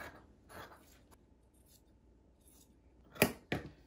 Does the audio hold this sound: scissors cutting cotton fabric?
yes